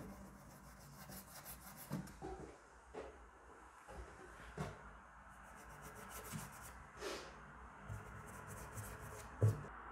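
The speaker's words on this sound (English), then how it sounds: "I'm just rubbing it in, literally with my finger like that." A finger rubs paint into a wallpaper mural for a mossy stone effect, making quiet, intermittent scuffing strokes close up against a faint background hiss.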